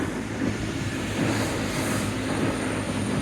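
A train rumbles past a pub, a steady low roar that holds loud and even for the whole stretch, with no voices over it.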